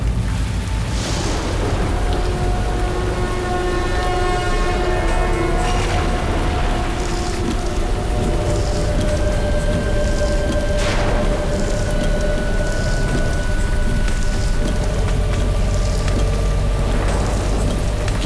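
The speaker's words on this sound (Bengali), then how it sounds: "কি জোরে বৃষ্টি পড়ছে এখানে।" Heavy rain pours in a steady, loud roar throughout, with a low rumble underneath and sustained tonal sounds on top, and no speech.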